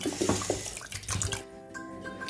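Water poured into a cooking pot holding sheep brain, a broad rushing splash for about a second and a half that then settles into quieter trickling and bubbling.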